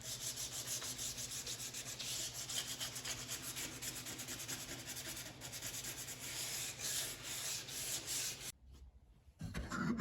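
Sharp corners of wooden pool cue rack pieces are eased by hand sanding: steady, close, rhythmic rubbing strokes that continue for about eight seconds, then a short pause before the rubbing resumes.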